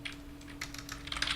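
Quick, light keystrokes on a computer keyboard come in a short, irregular burst, close and fairly quiet, with no voices.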